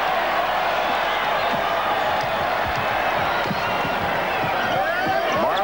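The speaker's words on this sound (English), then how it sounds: "Jordan way short, and that pleases the Utah crowd." Arena crowd at the 1993 NBA All-Star Game in Utah roars and cheers steadily after a missed Jordan shot, a dense continuous wash of voices with scattered whoops throughout.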